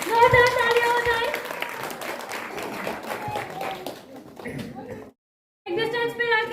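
Applause for the match winner at a kids' play zone grand opening, scattered clapping with voices talking over it, a brief gap of silence, then more talk and clapping.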